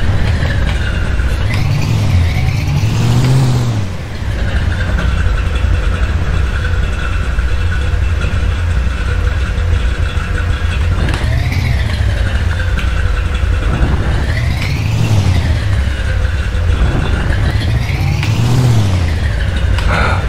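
A truck engine in the video game Junkyard Truck drones loudly and continuously, rising into several revving surges spaced a few seconds apart, with no talk over it.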